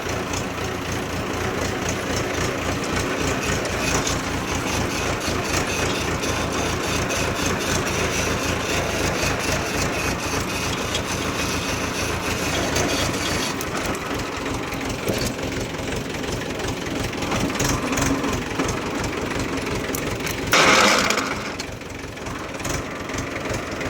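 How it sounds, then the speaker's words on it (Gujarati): A tractor engine runs steadily at close range on a farm track near a cashew field, a continuous low rumble with a brief louder burst near the end. "અહીંયાથી આપણે ટ્રેક્ટરને એવું કાઢવું પડે."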